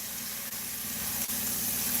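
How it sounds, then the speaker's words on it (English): Steady oil sizzling in a pan, a constant crackling hiss with faint pops, fairly quiet and close, with no talking. "I'm glad you can hear the sizzle."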